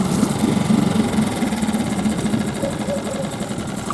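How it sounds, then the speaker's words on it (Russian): A Suzuki 6 outboard boat motor idles while warming up after sitting unused since autumn, a steady, close, loud mechanical chug with a fast rhythmic rattle and no talk. "Мотор греется."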